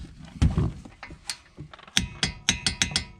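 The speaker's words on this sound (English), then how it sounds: "we're going to go ahead and get both of these torqued to 107 foot-pounds" Torque wrench ratchets as the brake caliper bolts are tightened on a Nissan Maxima, quick metallic clicks in short uneven bursts, then a rapid run of sharp ticks close by.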